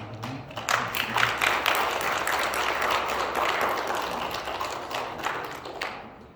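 Church congregation at a Sunday service in Colorado Springs applauding a newcomer, a dense, steady burst of clapping from many hands that holds for several seconds and then tapers off, with no voices over it.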